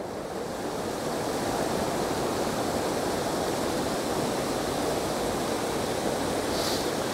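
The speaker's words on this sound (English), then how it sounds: "we've got two little waterfalls, two little cascades here" Water rushes steadily over rocks in a continuous, loud hiss of a small cascade, unbroken and with no voices.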